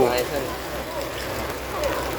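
Rain falling outdoors in Phitsanulok, a steady broadband hiss that holds at an even level for the whole stretch, with faint voices mixed underneath.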